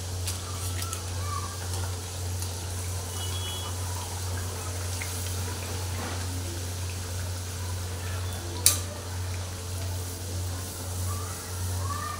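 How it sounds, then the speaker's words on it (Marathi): Malvani vadas deep-fry in hot oil in a kadhai on a gas stove, a steady close sizzle over a low hum, broken once by a brief sharp click. "गॅसवर कढई ठेवली आहे आणि आपलं तेल आता तापलं आहे। आपण आता वडा तळून घेऊया।"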